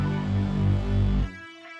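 Synth lead sample with added movement, a brief sustained harmonic tone wavering slightly before cutting off after about a second, leaving a faint tail.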